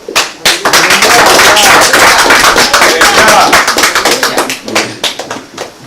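Worshippers at a Shabbat service give the elder a hand, a loud, steady round of many close claps that thins into scattered claps near the end, with faint voices underneath.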